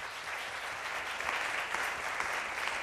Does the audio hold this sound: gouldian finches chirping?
no